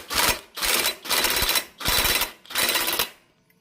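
Ratcheting or power-tool bursts tightening a nut during assembly of a Honda Beat engine: five loud, evenly spaced buzzing bursts about half a second each, close by, with short gaps between and no talk.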